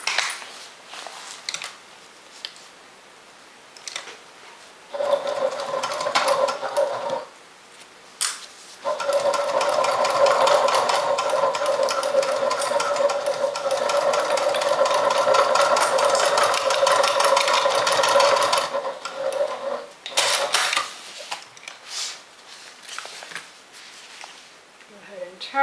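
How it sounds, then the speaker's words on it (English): A sewing machine stitching fabric for a makeup and toiletry bag runs in a steady, close whirring hum for several seconds at a time, with brief pauses and handling noises between runs. "And then stitch using a 1/2 inch seam allowance."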